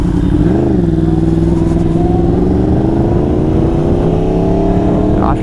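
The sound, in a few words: motorcycle riding off from parking lot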